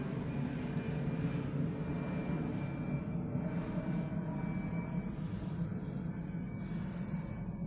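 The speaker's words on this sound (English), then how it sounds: "These planes are so disrespectful." A fixed-wing airplane passes overhead, a continuous low engine rumble and roar that holds steady throughout, moderately distant with no talking over it.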